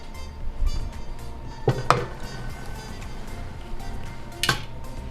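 A pot of rice is set back down on a stove with a few clinks and knocks of metal, two sharper contacts standing out against a quiet kitchen background.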